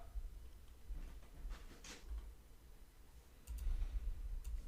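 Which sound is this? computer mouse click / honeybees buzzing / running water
computer mouse click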